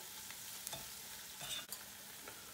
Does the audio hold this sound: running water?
no